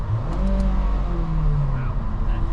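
A 2008 Honda Civic Si with a K20 engine revs up from inside the cabin, a steady mid-pitched engine drone that climbs and holds, loud and close, with people talking faintly underneath.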